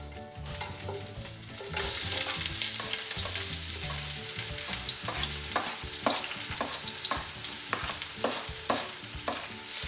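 Onion and bay leaves fry in a paella pan, a busy close sizzle broken by repeated scraping and clattering strokes of a spoon stirring the pan, with no talk.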